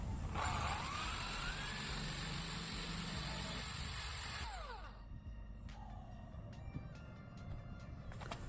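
A power drill boring 1-inch holes in wooden wheels for a baby walker makes a loud, sustained whining drone that cuts off, followed by quieter clicks and light handling noises.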